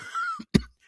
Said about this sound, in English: I'm coughing today